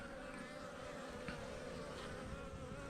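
A colony of honey bees from a cutout hive, kept treatment-free, hums steadily at the hive entrance, a dense continuous buzz close to the mic with no voices.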